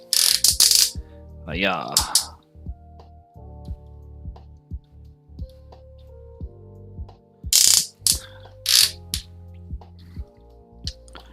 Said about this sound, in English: This high up, again, really satisfying, loud ratchets.